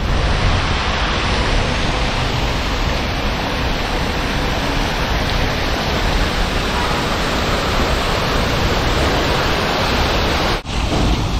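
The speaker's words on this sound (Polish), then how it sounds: "Zobaczymy fontannę z bliska." A street water fountain in Aqaba, Jordan, with a loud, steady splashing rush that continues unbroken and close, with no voices over it.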